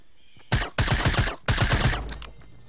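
SMG gunfire in the video game Fortnite: several loud rapid bursts of automatic fire with short pauses between them, close and clear, with no talking over them.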